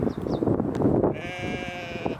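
Sheep bleating on a farm in Te Anau, New Zealand, with a couple of high calls early on and then a long, drawn-out, wavering bleat close by.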